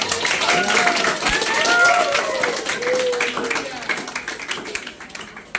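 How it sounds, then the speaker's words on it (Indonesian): Classroom students clap together on a teacher's prompt during a lesson, a scattered patter of hands under overlapping voices that gradually thins out. "Tepuk tangan dulu kita semua."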